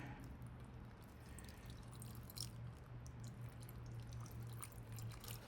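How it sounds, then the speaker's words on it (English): Tap water pours from a plastic solo cup into a rock tumbler barrel holding granite, a faint, close, continuous trickle with scattered small drips and splashes and no voices. "I grabbed some regular tap water, handy in any solo cup. Pour it in."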